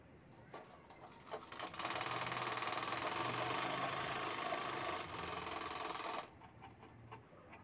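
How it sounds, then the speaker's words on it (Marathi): Sewing machine stitching main bag fabric layered with lining and rubber sheet around a curve, a steady fast mechanical whir running for about four seconds, close and fairly loud, with quieter handling sounds before and after. "हे मेन फॅब्रिक मी असं राऊंडमध्ये मी शिवून घेणार आहे"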